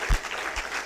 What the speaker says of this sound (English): Can we clap our dear God?